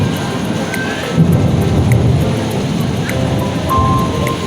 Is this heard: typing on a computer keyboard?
no